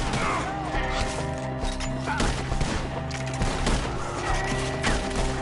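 Gunfire rings out in a Red Dead Redemption 2 shootout as enemies fire from up in the trees, a dense, continuous exchange of shots set over steady game music and ambience, with no talk heard.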